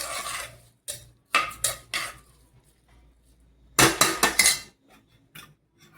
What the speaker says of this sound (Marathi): आता हे डाळ तांदूळ टाकल्यानंतर हे याला व्यवस्थित असं मिक्स करायचं.